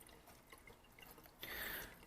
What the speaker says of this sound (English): water overflows from here back to the turtle tank